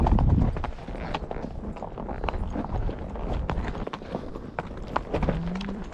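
Hooves of a horse clip-clop along a rough, rocky path in an uneven rhythm during a Montana cattle drive, close by, with some rustling and a faint voice now and then.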